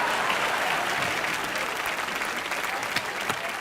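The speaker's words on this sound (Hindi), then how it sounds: "जोरदार तालियां इन दोनों के लिए।" A studio audience at a comedy show claps steadily, dense and fairly loud. The applause holds at a constant level throughout, with no voices over it.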